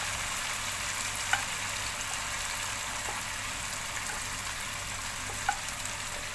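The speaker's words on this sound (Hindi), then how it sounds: "अब इसके अंदर डाल देंगे हम चिकन हमारी।" Chicken fries in a hot pan for sizzler biryani, a steady, dense sizzle close by and fairly loud throughout, with a couple of faint clicks over the hiss.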